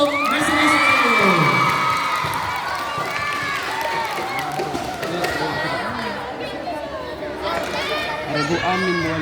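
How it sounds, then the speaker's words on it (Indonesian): A crowd at an Islamic Quran quiz competition for girls cheers and shouts loudly, with whoops and children's voices over a dense roar of chatter that keeps up for the whole stretch. "kita kasih tepukan yang gemuruh untuk masing-masing regu"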